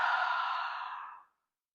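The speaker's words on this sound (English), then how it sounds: "Open the mouth and exhale it out." A single long breath pushed out through an open mouth during a gentle beginner yoga stretch, a close, breathy whoosh lasting just over a second that fades and cuts off into silence.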